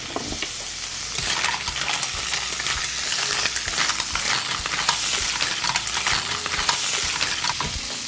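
White wine and cream bubble and sizzle in a hot skillet, a loud, steady, crackling fry with occasional stirring scrapes lasting throughout, with no talking.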